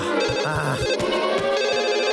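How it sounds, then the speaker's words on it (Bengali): A loud electronic phone ringtone plays a bright, repeating melodic pattern continuously, close and alone. "ফোন দেয় কিডা?"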